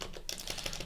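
Quick typing on a computer keyboard during a Linux desktop setup, a short run of light clicky keystrokes close by with no talk.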